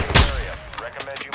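Gunfire from a firefight in the Call of Duty DMZ video game: one loud burst up close at the start, followed by fainter, scattered shots and game noise, with a voice talking over it.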